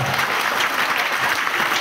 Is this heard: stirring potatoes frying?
no